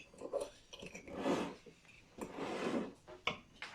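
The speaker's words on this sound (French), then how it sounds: "Et là, on mélange." Mug cake batter with red fruits being stirred by hand in a mug, giving soft, wet scraping and clinking bursts in an uneven rhythm, close and moderately quiet, with no talk.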